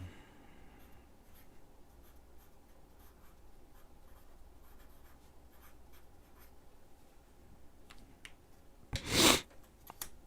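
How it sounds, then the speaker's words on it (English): A pen scratches out a name on a cardboard coin holder, soft close scribbling strokes under a quiet room hiss, ending in one louder rub or rustle near the end. "Let me write his name on there."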